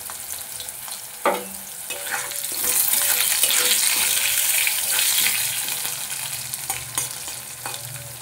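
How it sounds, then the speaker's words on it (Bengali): Potatoes fry in oil in a covered pan with bay leaf and dried chilli, giving a continuous bright sizzle that swells in the middle, with a few sharp clinks and stirring knocks and no voices. "দিয়ে ঢাকা দিয়ে আলুগুলো ভেজে নেবো ভালোভাবে"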